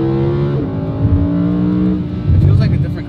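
A supercharged Lamborghini with a titanium exhaust drones steadily at close range, its engine pitch shifting and then swelling into a louder rev toward the end, with people talking over it.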